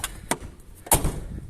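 A Škoda Favorit car door thuds shut, with a lighter click just before it; a short, solid slam heard up close.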